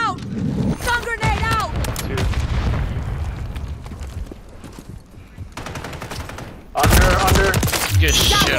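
Gunfire and explosions in the video game Call of Duty, bursts of shots and booms with shouted voices over them, quieter in the middle before a loud renewed volley near the end.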